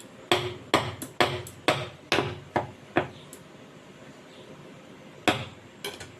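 Sharp metallic taps strike a steel bowl of semolina and mango cake batter, a quick run of about eight knocks followed by a pause and a few more later.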